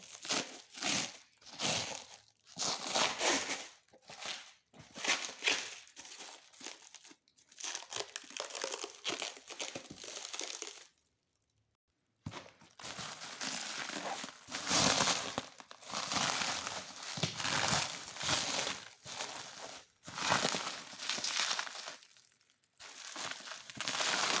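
Lenovo Legion 5 gaming laptop packaging with bubble wrap being handled during unboxing, a steady run of close crinkling and crumpling bursts with a brief pause midway.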